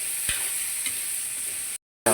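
Pechay stems and ground meat fry in a pan with a loud, hissing sizzle and a couple of soft stirring knocks, cut off by a short silence before the sizzle resumes.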